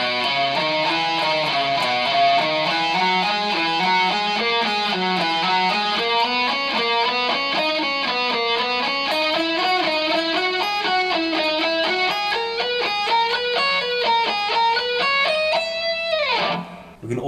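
Rapid, evenly alternate-picked guitar notes, alternating downstrokes and upstrokes in a steady stream, a melodic line moving up and down at constant loudness, ending with a brief scrape.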